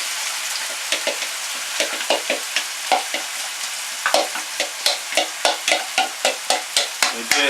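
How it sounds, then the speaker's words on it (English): Onions and chopped oyster mushrooms sauté in hot olive oil with a continuous close sizzle, while a utensil scrapes and stirs in a quick, regular rhythm that grows busier toward the end. "I've mixed the onions, chopped up the oyster mushrooms, and I'm going to add it to saute for a while."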